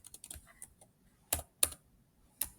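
Keystrokes on a computer keyboard while entering text in an Excel spreadsheet, a few quick clustered taps early, then sparse louder clicks spaced apart, close and clear with no talking.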